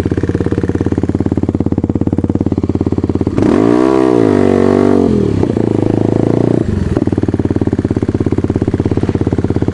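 A Kayo 110 quad bike engine drones steadily nearby, then revs up hard in a rising, wavering surge for about three seconds before settling back to a loud idle-like hum.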